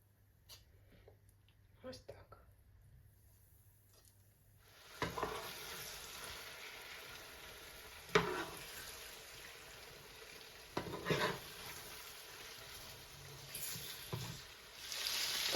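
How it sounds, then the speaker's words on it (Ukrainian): Flour-dredged chicken liver sizzles and crackles in hot oil in a pan after a quieter start, with occasional clatters and bumps of utensils against the pan. "на сковорідку наливаємо олійку і шматочки печінки, обвалюємо в борошні і викладаємо на сковорідку"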